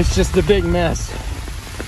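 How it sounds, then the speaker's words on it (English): Rain falls steadily on a forest trail along Indiana's Knobstone Trail during an ultramarathon, a soft, constant patter heard beneath someone speaking briefly. "It's just a big mess of rain."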